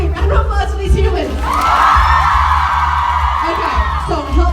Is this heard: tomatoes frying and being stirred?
no